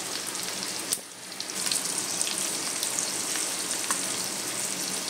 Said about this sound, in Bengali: তো এটা আমি এবার ভালো করে ভেজে নেব